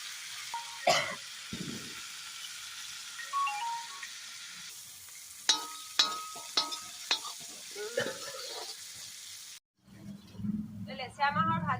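Onions and dried lentil dumplings (dangbodi) frying in a pan in a village kitchen, a steady sizzle broken by clanks and scrapes of stirring, with a short burst of louder cooking noise near the end.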